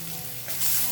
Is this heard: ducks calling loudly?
no